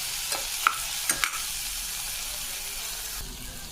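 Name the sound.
ginger garlic paste frying in a pan for tomato pulao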